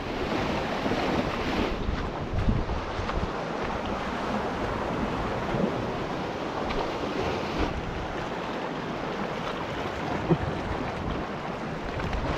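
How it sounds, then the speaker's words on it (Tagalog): Strong sea current and waves rush continuously at a rocky fishing spot, a dense roaring wash mixed with wind buffeting the microphone, steady throughout with no voices. "Grabe yung agos. Parang ilog."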